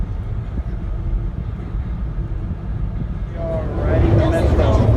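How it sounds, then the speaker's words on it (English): A Shanghai metro train heading toward the airport carries riders with luggage, giving a steady, loud, low rumble throughout that swells slightly near the end, with a voice or announcement audible over the carriage noise. "Riding the metro toward the airport with our luggage."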